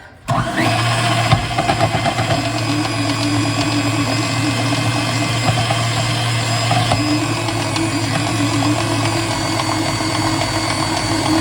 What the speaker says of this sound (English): So I'm going to grate my cheese. I'm using American cheese.